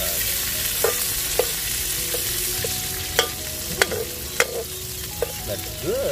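Onion sizzling steadily in a hot pan while a village chicken-and-coconut binakol is cooked, with occasional sharp taps and scrapes of a utensil stirring through the crackling fry.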